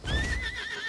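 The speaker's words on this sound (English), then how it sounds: "Get on our horse." A horse in the video game Lost Ark lets out a short, loud whinny that wavers in pitch, with a dull thud of hooves underneath.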